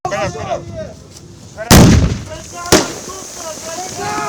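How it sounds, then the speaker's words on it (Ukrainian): On a military psychological obstacle course, two sharp, loud blasts from mine and tripwire charges and gunfire boom close by, ringing out over a voice talking throughout. "Усі ці дії військовослужбовців супроводжуються постійними вибухами, підривами мін, розтяжок, стрільбою"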